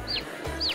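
Two brief, high clucks from chickens in a farming video game, evenly spaced and close, over a low steady background hum with no speech.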